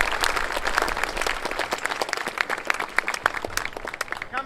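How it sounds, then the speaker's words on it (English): An audience at a military appointments and change of command ceremony applauds steadily, a dense patter of many hands clapping for several seconds at moderate distance. "So let's give them a round of applause"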